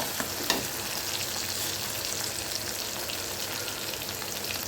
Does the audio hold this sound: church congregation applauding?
no